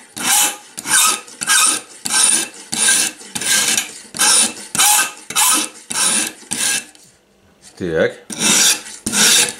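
Scissors are sharpened on a homemade sharpener in a series of rhythmic rasping strokes, each roughly half a second long, with a brief pause where a voice murmurs a single word before the strokes resume.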